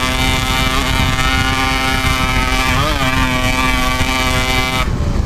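A Yamaha RX King two-stroke motorcycle engine, with an upgraded CDI, revs loud and close with a steady, buzzy harmonic drone, dipping briefly in pitch midway before cutting off abruptly near the end.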